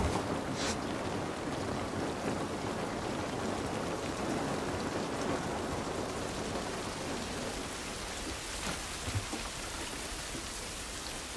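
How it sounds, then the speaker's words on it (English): Steady rain in the video game The Last of Us Part I hisses across the whole stretch, dense and continuous, with a few brief louder patters and no voices. "This rain ain't gonna do us any good."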